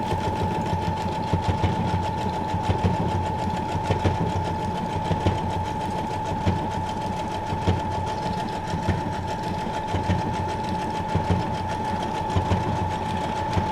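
A sewing machine stitching scraps of junk journal ephemera, a steady, close, continuous whirring drone of rapid needle strokes that runs unbroken and evenly loud throughout, with no speech.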